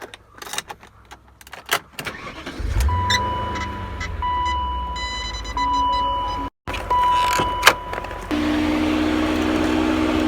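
A 2000 BMW M5 with an already warm engine starts up and settles into a steady idle. Key and cabin clicks come before it, and a dashboard chime sounds during the idle, recorded close.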